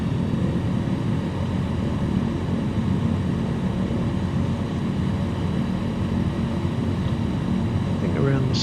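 Steady, droning propeller-plane engine in Microsoft Flight Simulator, flying low and slow through a canyon as the throttle is pushed up. The roar stays loud and even throughout, with a voice talking over it.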